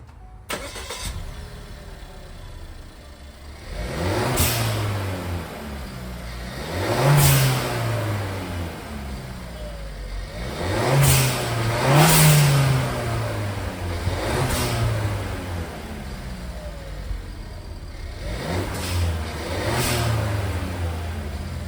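A Suzuki Swift Sport engine idles and revs repeatedly, each rev rising then dropping, some ending in a brief whooshing release from a Forge Motorsport blow-off valve, close and fairly loud.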